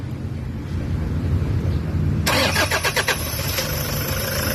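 A Toyota HiAce van engine with a check-engine fault and heavy vibration cranks briefly, catches, and settles into a loud, steady, slightly rough idle, heard up close with no talking.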